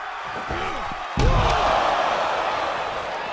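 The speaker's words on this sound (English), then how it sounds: "slamming him into the apron. That steel beam that holds the apron up." A wrestler is slammed hard into the steel-framed ring apron during an ECW hardcore wrestling match, a single loud, heavy thud with a rattle, over a steady roar of crowd noise that carries on afterward.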